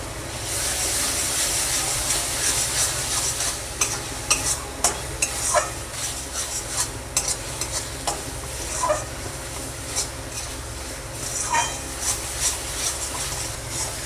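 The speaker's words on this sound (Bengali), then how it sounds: "আমি এবার টমেটো সসটা দিয়ে আর একটু নেড়ে নেব" A spice masala fries in oil with tomato sauce added, giving a steady loud sizzle. Irregular scraping strokes of a spatula stir it throughout, and no one speaks.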